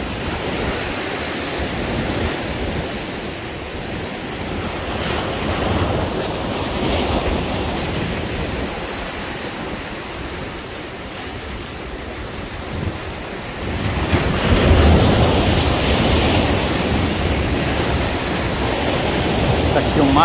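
Rough sea surf pounds a rocky shoreline under a strong south wind, a continuous loud roar of breaking waves with gusty wind buffeting the microphone throughout, swelling louder in the final stretch.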